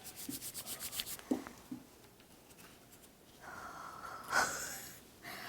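A wax hair-removal strip is rubbed briskly onto skin, producing faint rhythmic scuffing strokes up close, with a few soft breaths and light rustles in the background.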